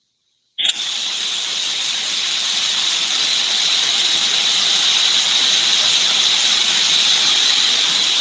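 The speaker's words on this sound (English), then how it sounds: "I will say steam whistles are the best whistles" After a moment of silence, a heritage steam locomotive at Sydney's Central Station lets out a loud, sustained steam whistle, a steady shrill hissing tone that holds unbroken for over seven seconds.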